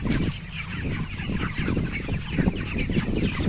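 Many broiler chickens cluck and murmur continuously inside a poultry barn holding a large flock, a dense close chorus of overlapping calls with no talking.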